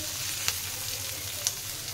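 Chopped onions frying lightly in oil in a pan for Odia dahi kadi, a steady moderate sizzle hiss with two soft taps from a utensil.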